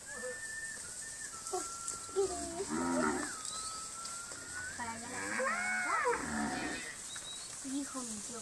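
A cow moos several times, long and drawn out, close by in a farm setting, while people talk and a whistle sounds in the background.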